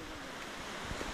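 Water rushing steadily out of a tunnel in the middle of a mountainside along the Gangotri foot pilgrimage route, a continuous broadband roar with no pauses, close and fairly loud.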